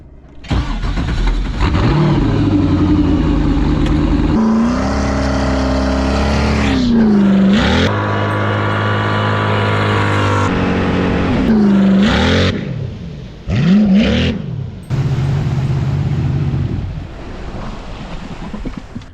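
A jet ski with an LS V8 engine and a large exit nozzle does a speed run on open water, its engine loudly revving up and down through several surges, wind buffeting the microphone, and then it eases off near the end.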